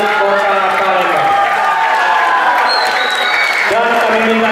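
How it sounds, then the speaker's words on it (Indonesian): Crowd applause at the closing ceremony of a provincial governor's rotating-cup chess championship in Palembang, loud and sustained throughout, with a host's amplified voice over it and a brief tonal chime near the end. "Tepuk tangan."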